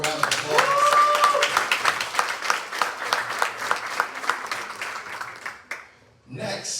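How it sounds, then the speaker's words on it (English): A live audience at a community event on housing for young adults leaving foster care breaks into steady clapping that lasts several seconds before dying away, with a voice speaking over it near the start and end. "Give him a round of applause."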